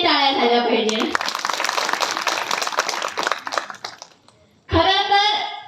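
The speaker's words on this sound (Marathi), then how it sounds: "यांच्यासाठी हे टाळ्या झाल्या पाहिजे." An audience at a village awareness programme breaks into a few seconds of dense, close clapping, framed by a speaker's voice before and after it.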